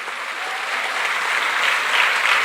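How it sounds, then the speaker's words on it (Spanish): A church congregation claps together in a dense, steady round of applause that swells slightly toward the end, fairly loud and with no voices over it. "Fuertes aplausos al Señor."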